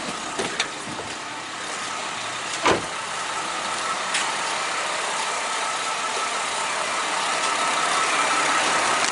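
A 2010 fifth-generation car engine idles steadily while warming up to operating temperature after a compressor, condenser and expansion valve replacement, a constant close rumble with a couple of faint clicks and no talking.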